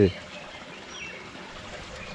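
Faint, steady trickle of flowing stream water at a bathing spot on Velliangiri Mountain, a soft continuous wash heard from a little distance, with a brief louder sound at the start.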